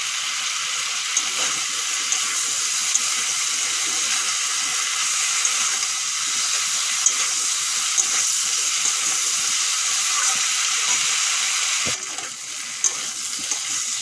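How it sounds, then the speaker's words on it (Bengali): Vegetables and soybeans frying in a pan give a steady, close, continuous sizzle with faint crackles, easing slightly for a moment near the end. "সবজি আমি ভালো করে ভেজে নিয়েছি"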